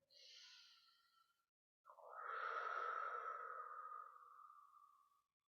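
A short breath is followed after a pause by a long, deep inhalation, close and soft in a quiet space.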